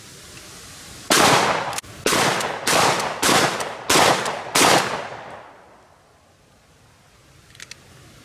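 A shotgun fitted with an extra full choke fires about six loud, sharp blasts in rapid succession at a target, each report ringing out briefly before the next, then the shooting stops and a quiet outdoor lull follows.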